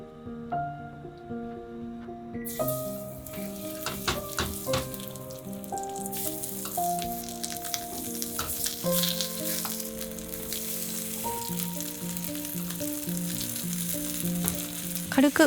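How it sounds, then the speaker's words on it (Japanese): Bite-size pieces dusted in potato starch pan-frying in a thin layer of oil, a steady close sizzle under light background music, with occasional soft clinks and crackles. "薄く油をひいて片栗粉をまぶして焼く。"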